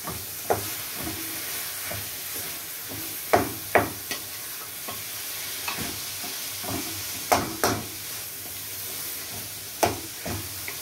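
Beef browning in a pan for a beef ragout, a steady soft sizzle with scattered sharp scrapes and clinks as it is stirred, no talking.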